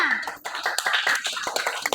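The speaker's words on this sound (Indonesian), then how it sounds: "Tepuk tangan dulu semuanya." A group of students claps for the Kamboja group in a classroom, a short burst of scattered, uneven hand claps close by with a voice briefly audible at the start.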